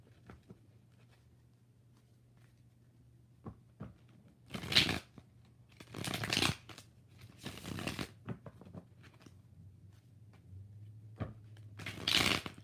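Tarot cards being shuffled close by in several separate rustling bursts spread across otherwise quiet seconds, over a faint steady hum.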